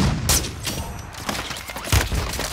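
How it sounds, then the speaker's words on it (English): In a shooter video game, gunfire crackles in several sharp bursts, four loud shots or short volleys spread over a few seconds against a rumbling battlefield background. "That guy's shooting us."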